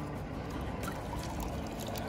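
River water of the Ganga flows steadily past Chandi Ghat in Haridwar, a continuous rushing, splashing wash heard close and fairly soft, without pauses.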